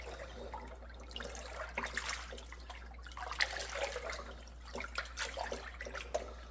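Chestnuts drop into water for a sink test, a steady watery wash with small splashes and plops scattered throughout, close by over a constant low hum.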